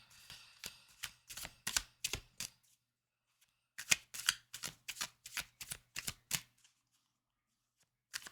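Tarot cards being shuffled and drawn, crisp papery riffling bursts in two runs of rapid flicks separated by a short pause, close and fairly loud with no talking.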